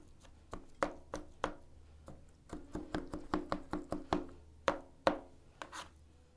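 A knife minces Bay of Quinte trout on a cutting board, close sharp chopping taps in irregular bursts, quickening into a rapid run midway, with quiet gaps between.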